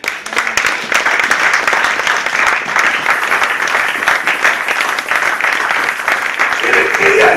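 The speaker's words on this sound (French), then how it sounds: "On peut acclamer la parole." A church congregation applauding in praise, sustained dense clapping with voices mixed in throughout, fairly loud and steady for the whole stretch.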